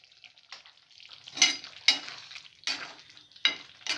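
A spoon stirs Mughlai chicken with chopped coriander and ghee in a pan, giving a soft sizzle under five distinct scraping strokes at irregular intervals, close and fairly quiet.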